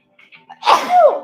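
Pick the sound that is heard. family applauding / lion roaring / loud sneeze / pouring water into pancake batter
loud sneeze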